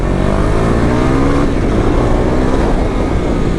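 KTM Duke 390 motorcycle engine heard through a helmet intercom while riding on a highway, a loud continuous drone mixed with heavy wind rush, steady throughout with no pauses.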